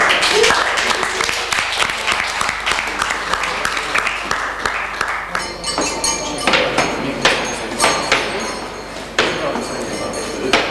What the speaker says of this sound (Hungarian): Tapsoljátok meg!